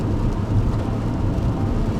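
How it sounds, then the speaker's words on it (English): Light rain falling during a drive, heard as a dense, steady wash over a low road rumble from inside the vehicle, loud and unbroken. "and it's already raining."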